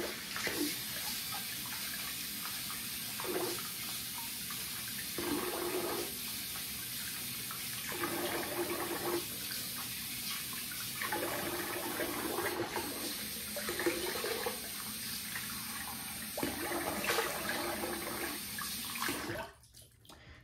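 Tap water runs steadily for rinsing off after a wet shave with a Rockwell 6S double-edge razor, a continuous splashing stream broken by brief shifts as hands move under it, then cutting off abruptly near the end.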